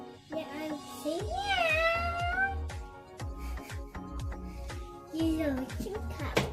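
A cat meows several times with long, rising and falling cries, mixed with a voice talking nearby.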